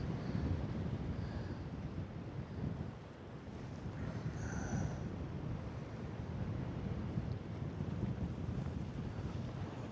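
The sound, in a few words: wind blowing while paragliding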